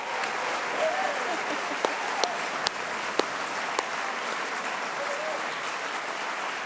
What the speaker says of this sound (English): let's just have a round of applause for all 10 quartets